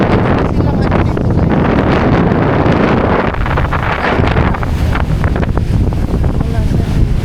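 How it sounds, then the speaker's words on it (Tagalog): Rough sea waves and strong wind buffet a boat, with heavy gusts battering the microphone in a loud, constant roar and surging water throughout, while people talk faintly beneath it. "Maano lang dito, sobrang maalon."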